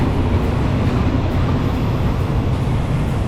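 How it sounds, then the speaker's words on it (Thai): Steady broadband rumble of a train standing at a Thai railway station, a loud continuous wash of engine and carriage noise without distinct events. "รถไฟคันเดิมของเรา กลับมาเจอกันอีกครั้งแล้วนะคะ"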